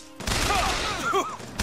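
Rapid bursts of machine gun fire in the video game BioShock Infinite, loud and dense across most of the moment, with whistling ricochet-like tones mixed into the volley.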